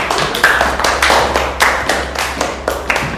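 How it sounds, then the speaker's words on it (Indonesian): Students in a classroom clap their hands for a classmate with a rhythmic, fairly loud round of applause, about seven strong pulses of clapping over a few seconds. "Beri tepuk tangan untuk Mbak Mega"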